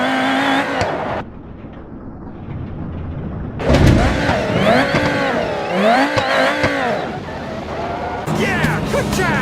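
Racing car engines in BeamNG.drive rev and swoop past as a car overtakes a truck, rising and falling pitch sweeps over rumbling road noise, with a short pause and then a fresh burst of acceleration near the end; a voice speaks faintly underneath.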